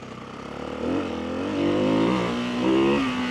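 A single-cylinder supermoto motorcycle, either a Ducati 698 Mono or a KTM 690 SMC R, accelerates hard, its engine note climbing through quick upshifts in a loud, close, rising drone.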